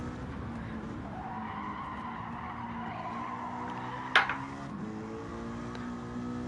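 Racing car tyres squeal in a sim racing video game, a steady engine drone running throughout with a long rising skid tone and a sharp brief click near the end.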